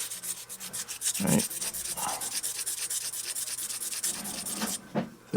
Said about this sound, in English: I'm just going to polish the outside edges of it